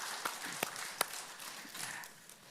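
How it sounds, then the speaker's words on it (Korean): A church congregation claps during a Korean new-year revival dawn service, a faint, diffuse patter of hands with a few sharper claps standing out, steady throughout and fading slightly near the end. "우리 하나님께 영광의 박수 올려드리시겠습니다"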